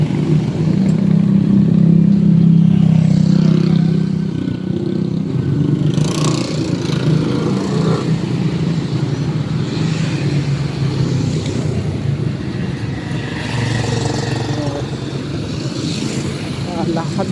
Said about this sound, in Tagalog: Pero parang main road na rin sa dami na sasakyan